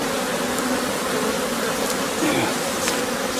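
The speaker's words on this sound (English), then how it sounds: "There's plenty of bees in this one." Honey bees swarm thickly around an opened, heavily populated hive, their dense buzzing a steady, close and unbroken drone with no voices.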